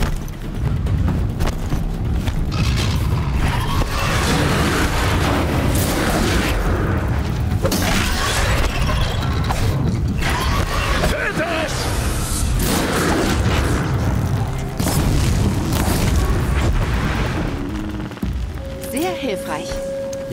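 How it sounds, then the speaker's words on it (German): An explosion in the action game Horizon Zero Dawn sets off loud, sustained booming and rumbling that stays heavy and dense for most of the stretch before thinning out near the end. "Die Explosion hat mich aber ganz schön erwischt."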